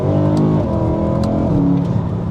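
A BMW E92 M3 with a naturally aspirated engine and upgraded rear exhaust revs loudly and steadily up close, its deep tone rising and falling through changing pitches with no voices.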